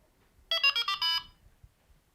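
A Delkim Rx-D receiver gives a short run of close, bright electronic alarm beeps, about four quick pulses within under a second, followed by faint handling noise.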